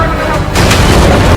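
A cannon shot in the One Piece anime, a loud, close, heavy boom with a short rumbling blast that fills the whole moment and then cuts off abruptly.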